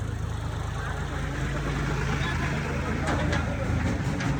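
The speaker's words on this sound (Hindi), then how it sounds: "ट्रैक्टर आ रहा है" A tractor engine passes through a village, a steady mid-distance rumble and drone running under a person talking.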